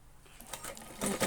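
A sewing machine stitches blouse fabric with a lace edge, a short, quiet whirring run that builds to a rapid mechanical chatter near the end.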